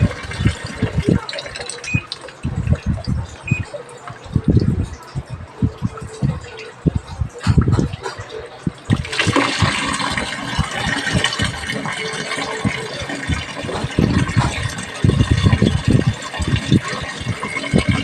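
A Toshiba top load washing machine takes in water after its water level sensor is cleaned and replaced, with irregular rattling and knocking giving way to a louder continuous rush of filling water that lasts to the end.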